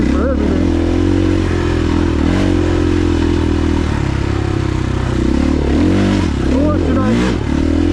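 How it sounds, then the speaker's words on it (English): Dirt bike engine droning loud and steady while riding at Dove Springs, with pitch rising and falling as the throttle changes, plus wind and clatter, and a rider talking over it. "it's not easy to hear me over the sound of the engine"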